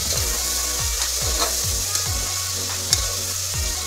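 Chicken stirred into frying onions in a pan: a steady sizzle with a regular, rhythmic series of scraping stir strokes, close and moderately quiet, no voices.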